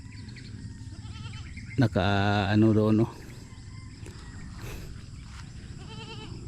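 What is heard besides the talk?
goats bleating on a farm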